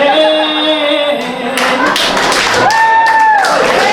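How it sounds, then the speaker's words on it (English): Scattered finger snaps from an audience at a comedy club night, crisp taps mixed under a sustained singing voice with tonal lines. "I heard the finger snaps."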